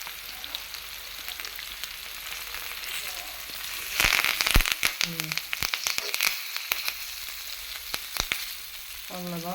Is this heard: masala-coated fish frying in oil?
yes